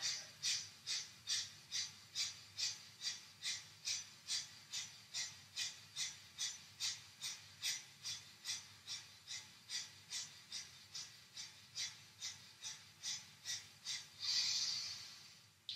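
Kapalabhati yoga breathing with forceful, rhythmic pumping exhales through the nose, about thirty quick sharp puffs at an even pace, close and soft, ending in a longer breath.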